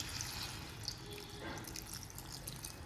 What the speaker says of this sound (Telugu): బంగాళదుంప ముక్కలు అవి దానికి తగ్గట్టుగా వాటర్ వేస్తాము